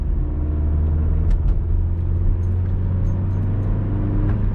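A Vauxhall Corsa fitted with a Halfords performance air filter drones and rumbles steadily from inside the cabin while driving, with a constant low engine note and no speech.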